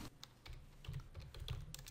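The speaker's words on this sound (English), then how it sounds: "So I'll type view using the keyboard to get the same dialog box." Keys clatter on a computer keyboard as a command is typed, an irregular run of quiet, crisp taps spaced unevenly over a faint low hum.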